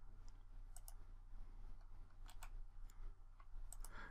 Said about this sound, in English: I'm left clicking to place the dimension